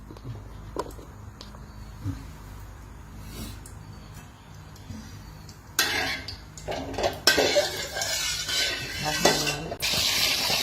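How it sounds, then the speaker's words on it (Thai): Quiet kitchen clatter of utensils and pans gives way to a loud, crackling sizzle as fish hits hot oil, spitting in bursts. "เสียงทอดปลา"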